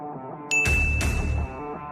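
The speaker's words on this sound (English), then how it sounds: "it dings on your phone and lights up" A 32-ounce hydration-tracking water bottle gives off a bright electronic ding, one clear chime with a sustained ringing tone and a brief clunk of handling, close and alone with no talking.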